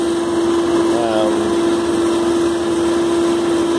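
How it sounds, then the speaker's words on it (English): A Syil C6-B CNC lathe turns a part, giving a steady, close mechanical whine with a constant pitched tone over a whirring spindle hum that runs evenly without pauses. "And now we're back machining."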